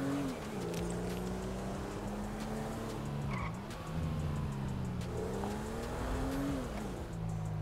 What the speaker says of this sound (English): I'm going to pull my car into this driveway.